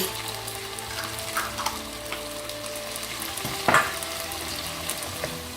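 Prawns stir-frying in chili oil in a wok, with a steady close sizzle and occasional scraping stirs, one louder clatter of the utensil midway.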